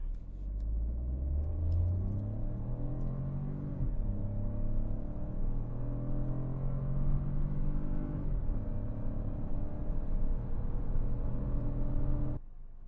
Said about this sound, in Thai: ครับตอนนี้เราจะมาลองอัตราเร่ง0ถึง100นะครับในโหมด normal นะครับ